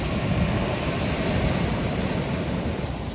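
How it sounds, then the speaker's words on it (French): Ocean waves breaking on a shore in Cyprus, a steady broadband wash of surf with some wind rumble, loud and continuous throughout with no talk. "vous entendez le son des vagues"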